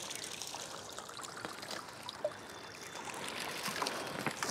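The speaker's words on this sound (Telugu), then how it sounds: "ఈ లిక్విడ్ వేస్తే ఇదంతా ఖర్చు లేని ఫర్టిలైజర్స్ అనమాట" Homemade liquid plant fertilizer, made by soaking weeds and plant scraps in water, pours and trickles steadily for several seconds, a close, continuous splashing stream.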